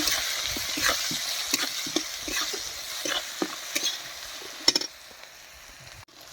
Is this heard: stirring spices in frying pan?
yes